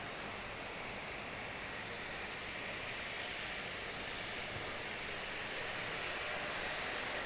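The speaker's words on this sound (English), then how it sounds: "Got another prop starting up." A propeller aircraft engine runs up at Christchurch Airport, New Zealand, as a steady, broad, loud roar that holds evenly throughout with no voices over it.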